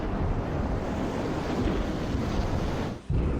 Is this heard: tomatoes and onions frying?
no